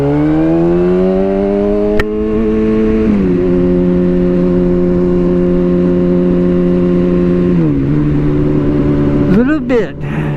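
A Yamaha R1 motorcycle engine holds a steady loud drone while riding, with pitch dips and rises around shifts and a sharper rev near the end, under wind noise; a voice talks over it.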